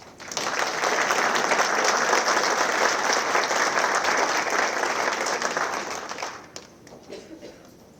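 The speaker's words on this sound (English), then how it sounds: "Jack, thank you so much for the second round of applause for my table." An audience at an alumni awards ceremony breaks into loud, sustained applause that builds quickly, holds steady for several seconds, then fades into scattered claps and room noise.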